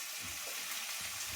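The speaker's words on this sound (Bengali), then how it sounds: "বেগুনগুলো একটু ভাজা ভাজা করে নেবো" Fresh brinjal pieces sizzle steadily in hot oil in a pan, a dense continuous frying hiss with faint stirring scrapes underneath, close and even throughout with no talk.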